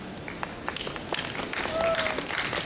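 Audience applause at a Jakarta talk show, scattered claps building into a fuller round, mixed with crowd noise and some voices.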